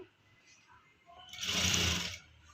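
A sewing machine stitches a collar neck in one loud, steady burst of needle whirring that runs for under a second, after a quieter stretch of faint room noise.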